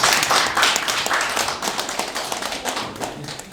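An audience at a lecture on North Korean human rights applauds, a dense and fairly loud burst of clapping that eases slightly over a few seconds, with no one speaking.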